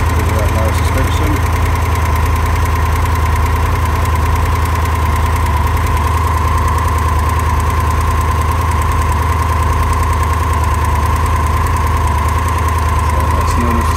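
A 2022 Triumph Tiger 1200 GT Pro motorcycle engine idles steadily and smoothly nearby with a constant low hum and faint mechanical ticking throughout.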